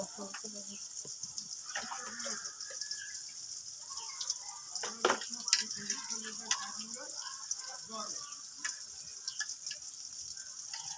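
Dried shrimp being rinsed in a sink under running water to clear out sand, a steady wash of tap water with scattered splashes and clinks, with a voice talking over it at times.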